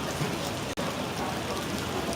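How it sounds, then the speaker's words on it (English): Steady rain falling outdoors in Dayton, Ohio, a continuous close hiss of drops with no break apart from a brief dropout. "Oh, it's raining pretty good here."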